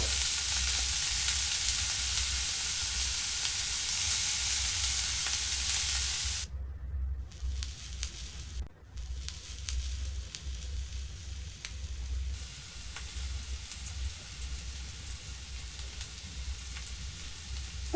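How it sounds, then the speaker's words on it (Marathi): Chopped tomatoes with ginger-garlic paste fry in a pan over low heat with a continuous close sizzle and hiss, softening slightly partway through, with occasional stirring scrapes. "टोमॅटो चांगले मऊ होण्यासाठी मंद आचेवर त्याला सतत परतत राहायचं आहे."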